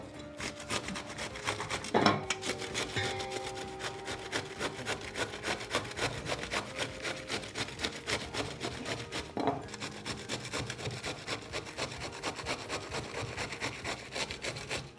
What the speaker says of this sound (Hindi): इसमें हम थोड़ी सी कैबेज कद्दूकस करके डालेंगे